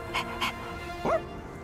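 Koromaru, a dog in the video game Persona 3 Reload, gives two short soft yips followed by a brief rising whimpering bark, faint and close, over a quiet steady game background.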